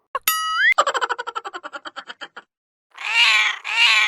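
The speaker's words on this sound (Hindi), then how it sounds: "ये बिल्ली के बच्चे कहाँ से आ गए?" In a cartoon, a boing sound and a rapid series of short kitten cries, then two drawn-out high meows close by.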